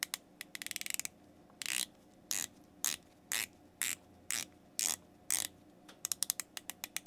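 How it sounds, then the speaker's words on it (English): A dive watch bezel with unusual grippy notching being turned, giving sharp ratcheting clicks in quick bursts and spaced single steps, crisp and close with no talking. "Let's listen to the bezel action on here."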